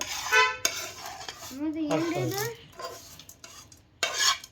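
A spoon stirs fried tempering into a curd and flattened-rice (poha) mixture in a metal vessel, giving repeated scraping, clinking strokes with a short squeaky scrape midway, fairly close and with no talking.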